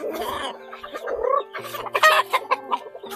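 Chickens clucking close by, a few short overlapping calls with a hen's busier chatter rising toward the end.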